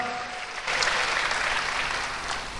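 A church congregation breaks into lively applause during a sermon, the clapping swelling in after a brief quiet moment and then holding as a full, steady crowd sound.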